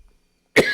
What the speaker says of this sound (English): What an odd time to suddenly cough.